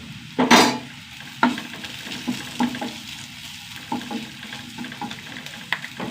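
Turmeric and crushed chili fry in a pan, a light crackle broken by scattered clinks and scrapes of stirring, fairly close.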